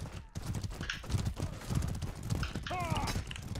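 Horse hooves clip-clop in the medieval combat game Mordhau: a quick run of hoof beats, with a short neigh near the end, under excited talk and background game noise.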